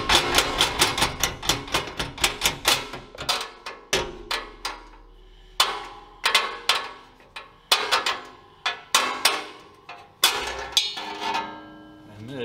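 Sharp metallic hammer taps drive a carriage bolt out of a zero-turn mower, struck in quick bursts and then in slower, spaced single blows, close and ringing, with no talking.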